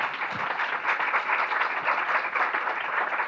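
An audience at a judicial panel discussing a court ruling gives sustained applause, a thick, even roar of many hands clapping at fairly close range with no speech over it.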